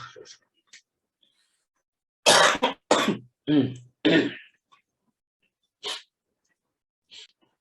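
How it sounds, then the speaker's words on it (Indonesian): A run of harsh coughs in a burst from a lecturer, followed by a couple of isolated single coughs, fairly close with quiet gaps between. "Maaf, terhenti sebentar, ini kondisi batuk saya."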